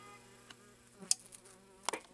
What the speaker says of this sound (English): Damn bee just came over.